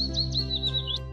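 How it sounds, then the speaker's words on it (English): A bird gives a quick run of high, thin chirps in a steady series over a faint low hum. "Bird."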